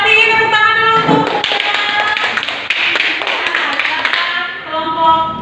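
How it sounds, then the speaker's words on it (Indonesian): A small group of classmates applauds during an Indonesian classroom lesson, a short burst of dense clapping under tonal voices or music that tails off near the end. "Tepuk tangan dulu untuk"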